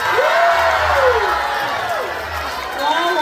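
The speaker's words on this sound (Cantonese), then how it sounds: "希望大家俾上嘅掌聲" At a music video awards show in Macau's Galaxy GBox, an audience whoops and cheers with rising and falling shouts over a steady crowd roar, with a low thumping hum underneath.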